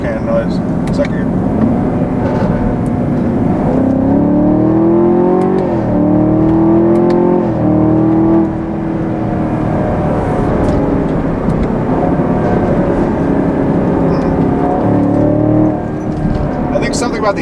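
A 2020 Chevrolet Camaro 2SS with a 10-speed automatic accelerates in second gear on a high-altitude road, its engine note rising and shifting in loud, steady layers heard from inside the cabin, while a person talks over it.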